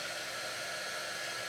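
A hair dryer blows in a steady, loud, unbroken whoosh while drying a craft project, close by with no voices.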